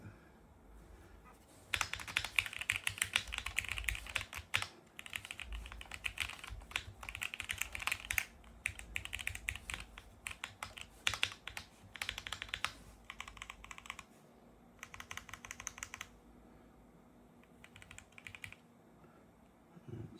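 A Drop CSTM65 mechanical keyboard being typed on at close range, dense bursts of clacky keystrokes in uneven runs with short pauses between them.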